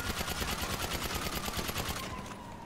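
A suppressed combat PDW in GTA 5 fires in a rapid, continuous automatic burst of muffled thuds for about two seconds, then stops, leaving a fading tail.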